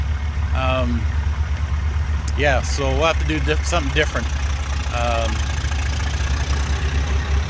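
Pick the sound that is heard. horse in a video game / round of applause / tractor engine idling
tractor engine idling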